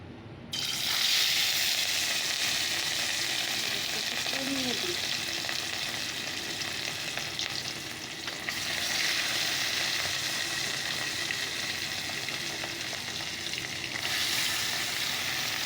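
Fish sizzles steadily in hot oil, a dense continuous frying hiss that stays close and loud throughout with a brief dip midway, no voices.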